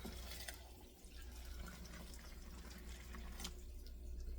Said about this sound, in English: This is all of our chicken broth and our water and our butter.